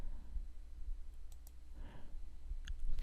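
Several faint, sharp mouse clicks spaced irregularly over a low background hum, with no voices, as someone clicks through Google Classroom tabs on a computer.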